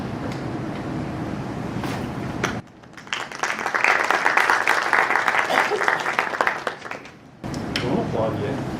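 An audience at a library's banned-books read-out breaks into applause for about five seconds. The sustained, dense clapping sits between stretches of background room noise.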